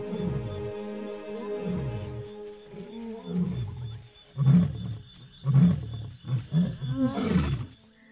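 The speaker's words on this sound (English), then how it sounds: "it's the roar of lions that echoes out across the plains." Lions on open plains roar in a slow series of deep, heavy grunting calls that build in loudness and come at an uneven rhythm, with a soft musical tone fading out at the start.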